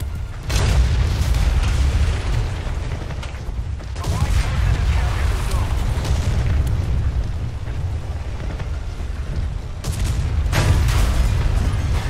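Tank cannon fire and explosions from War Thunder thunder almost continuously, with heavy booms and rumbling blasts stacked close together and loud throughout under faint game voices.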